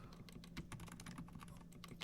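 Quiet, rapid typing on a computer keyboard, with dense irregular key clicks and clacks heard close but faint throughout.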